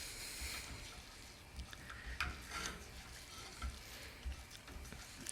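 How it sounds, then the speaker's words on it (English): Scrambled eggs with cheese are stirred in a pan, giving a soft, steady scraping and light sizzle with occasional clicks of the utensil against the pan, close and moderately quiet. "Just notice how I'm just stirring it away."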